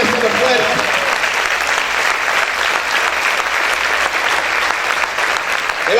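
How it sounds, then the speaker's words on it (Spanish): Sustained, loud applause from a church congregation, many people clapping together in an even, unbroken roar for several seconds. "Ese aplauso es para el Señor,"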